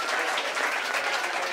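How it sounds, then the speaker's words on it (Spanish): Audience applause at a written rap battle event in Argentina, a brief, steady, dense wash of clapping and cheering. "Fuerte aplauso para Nahue"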